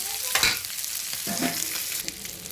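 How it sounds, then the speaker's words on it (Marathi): Fish sizzles and crackles in hot oil in a pan, a steady close frying hiss with a brief stir or turn partway through, no voices. "हे बघा मच्छी एकदम फ्राय"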